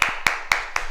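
A karate class claps together in unison: four sharp, evenly spaced claps in a quick, tight rhythm, close and fairly loud, with no voices.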